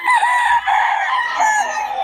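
A gamecock crows once, a loud, close, drawn-out call lasting about two seconds, with no talk over it.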